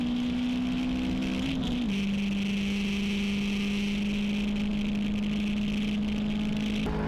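A T1 class Mini and a Civic race around Rockingham's track, their engines a continuous droning whine that steps down slightly in pitch early on, then holds steady and loud through the run.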